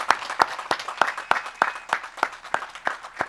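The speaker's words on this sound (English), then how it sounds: "Please join me in giving a round of applause." A sparse, fairly faint round of applause at a law school commencement ceremony, with a few distinct, evenly spaced claps standing out against a softer background.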